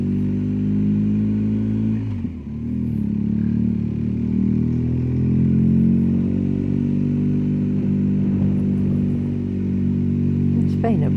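A BMW R1250GSA adventure motorcycle carrying two riders while touring on English roads between Bath and Barnstaple, its engine droning steadily and loudly with wind rush throughout and a brief dip in tone partway.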